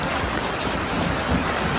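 Heavy monsoon rain pours down in a rural Bengal setting, a dense, steady hiss of drops on surfaces filling the whole stretch without a break.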